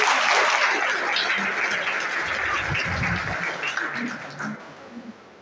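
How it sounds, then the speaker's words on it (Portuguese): A church crowd applauds a music group at the closing of the patron saint festival of Santo Antônio de Pádua, producing loud, sustained clapping that gradually thins and fades toward the end. "Um salve de palmas para eles"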